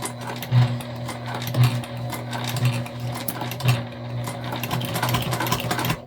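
Sewing machine stitching through the bulky seam of a self-drafted fabric tote bag, a steady close mechanical whir with a regular thumping pulse about once per second as the needle works through thick layers, no talk.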